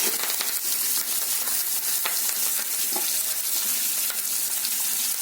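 Curry leaves and green chillies crackle and sizzle loudly in hot tempering oil with asafoetida for poha pulihora, a steady dense frying hiss with small pops and stirring clinks throughout.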